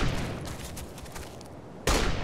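Gunfire in Operation Flashpoint: Dragon Rising crackles as a dense volley of rifle shots, thinning into scattered distant reports before a loud close burst near the end.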